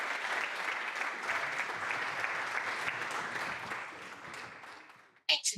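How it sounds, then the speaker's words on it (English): An audience at a conference on music science applauds its speakers, a sustained mid-distance round of clapping that fades out before a voice begins speaking at the very end. "can we give a round of applause to all of our speakers?"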